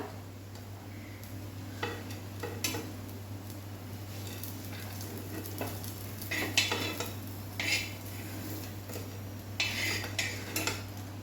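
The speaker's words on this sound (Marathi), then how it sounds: "छान कारले फ्राय झाले आहेत आपले काढून घेऊया" Stuffed bitter gourds (karela) frying in a pan, with a soft sizzle under occasional clinks and scrapes of a utensil against the cookware and a steady low hum throughout, quiet and close, no talking.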